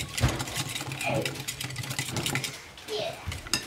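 A child whisks evaporated milk and egg yolk in a bowl for leche flan, giving a steady rhythmic scraping and clinking, with voices talking over it.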